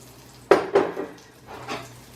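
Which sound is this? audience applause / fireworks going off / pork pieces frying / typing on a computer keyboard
pork pieces frying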